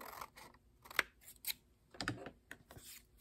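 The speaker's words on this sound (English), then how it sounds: "I'm going to grab my scissors and we're going to cut here." Scissors make a few quick, crisp snips through an index card at close range, spaced irregularly against a quiet background.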